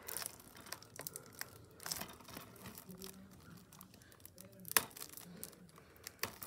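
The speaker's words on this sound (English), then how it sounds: "Let's remove the plastic seal." Plastic seal being peeled and torn off a Disney Pixar DVD case, with close crinkling and crackling of thin plastic in short scattered bursts and a sharper tearing snap partway through.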